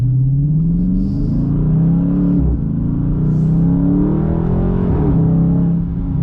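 An automatic Dodge Scat Pack's V8 engine runs in manual paddle-shift mode, giving a loud, deep, close rumble that rises through revs, dips briefly at two gear changes, and climbs again.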